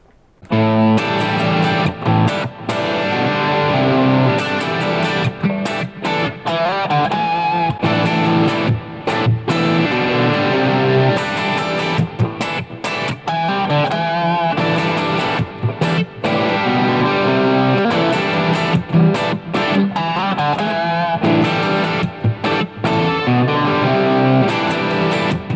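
Distorted electric guitar plays a riff with heavy compression, steady and loud with choppy bursts and short pauses between phrases.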